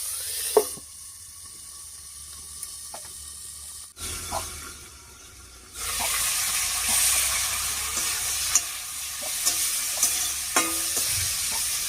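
Cauliflower mixed with salt and turmeric cooks in a covered pan, giving a steady soft sizzle with scattered clicks and clinks of stirring and the lid, louder in the second half; no talking.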